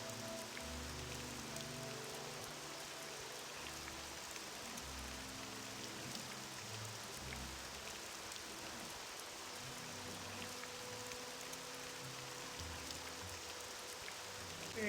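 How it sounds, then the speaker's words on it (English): Steady broadband rain falling in the video game Morrowind, played through OpenMW with an upgraded rain effect, a continuous even hiss of drops on surfaces for the whole stretch with a faint low tonal bed beneath. "just upgraded the rain"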